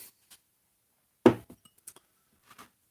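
A drinking glass is set down with one sharp, close clink, followed by a few quieter taps and knocks in a silent room.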